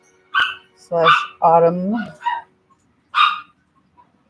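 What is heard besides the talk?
small dog yapping and barking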